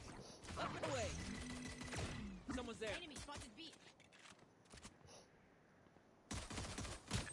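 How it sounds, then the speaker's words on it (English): Bursts of rapid Valorant gunfire and sharp impacts, with a voice talking over parts of it, then a sudden loud volley near the end. "The gunfire that happened the second that man peeped."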